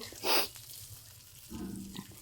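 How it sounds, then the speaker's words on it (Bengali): Black cumin and green chilli hit hot oil in a home kitchen with a brief loud hiss, then a softer, steady sizzle that crackles on quietly. "একটুখানি কালো জিরে কাঁচা লঙ্কা ফোড়ন দিয়ে"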